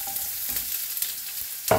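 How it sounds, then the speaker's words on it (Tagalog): Chopped onions sautéing in a pan for a simple packed work lunch, with a soft continuous sizzle and light stirring scrapes, ending in a brief louder burst as more food hits the hot oil. "Nilagay natin sibuyas."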